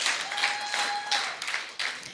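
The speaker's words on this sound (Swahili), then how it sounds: "Please clap for her." An audience applauds a presenter at a gathering: a dense, steady wash of hand clapping for about two seconds, fairly close and loud, with a faint voice or whistle tone running through it.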